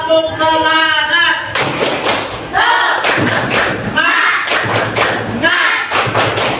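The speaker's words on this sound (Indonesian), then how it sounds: "Tepuk semangat." A school class performs a rhythmic spirit clap, bursts of loud thumping claps in a patterned beat mixed with children's chanting voices.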